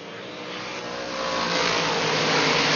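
Race cars at Mohawk International Raceway roar past in a continuous, rising engine drone that grows louder and fuller over the few seconds, with no voices.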